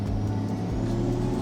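Ford Falcon ute fitted with new turbo mufflers idling or cruising gently, its exhaust giving a steady, low, close rumble without revving or breaks.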